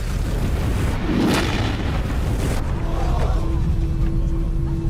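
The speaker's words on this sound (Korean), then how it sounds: "한별 원자력 발전소에서 폭발음이 들렸다는 제보가 있었는데요" A nuclear power plant explosion in the disaster film Pandora plays as a loud, sustained roaring rumble with a deep boom swelling near the start and a faint tone emerging later. There is no speech.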